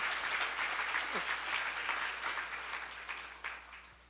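Congregation applause at a church seminar on Jeremiah, a steady wash of many hands clapping that fills the room, moderately loud and gradually tapering toward the end.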